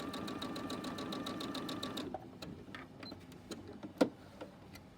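Sewing machine running steadily as it stitches a scant quarter-inch seam with an HP presser foot, a fast even whir for two seconds that then stops, leaving faint handling clicks and a soft thump.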